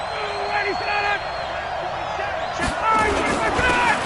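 Crowd noise rises and cheers swell in a PS4 American football video game as a big third down approaches, a broad roar building in the second half under tones of game sound.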